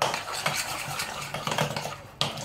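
A goat cheese and courgette terrine mixture, seasoned with salt and pepper, being stirred in a bowl: busy, close scraping and clinking of a utensil against the dish, with a sharp knock near the end.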